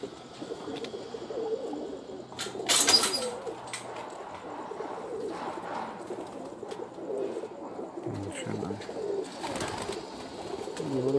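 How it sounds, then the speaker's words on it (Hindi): Soft, low pigeon coos repeat in the background alongside a brief burst of wing flapping, heard outdoors with light ambient noise. "ये जी अभी एक और कबूतर आ गया इनका"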